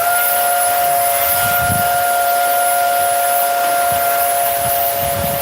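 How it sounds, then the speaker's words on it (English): A vacuum cleaner runs continuously close by as it sucks dust out of the injector holes on a Ford Crown Victoria engine, giving a loud steady whine with a high sustained tone. "I'm just vacuuming those holes where the injectors go in"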